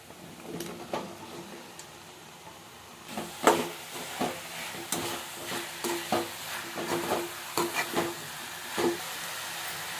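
Mushrooms and potatoes tipped into a pan of softened onion masala for a mushroom, white chickpea and potato curry, quiet frying hiss at first, then louder sizzle with repeated scraping stir strokes and clatter in the second half.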